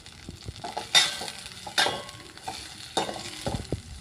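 Two green chillies fry in a pan for South Indian tomato rasam, a low crackling sizzle broken by three louder scraping stirs at even intervals.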